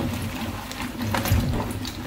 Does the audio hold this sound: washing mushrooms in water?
yes